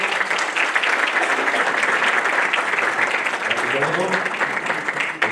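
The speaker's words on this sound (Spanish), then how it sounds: "le damos un fuerte aplauso" Applause from a seminar audience after a talk on urban trees, steady and dense clapping that fills the room for several seconds before fading slightly at the end.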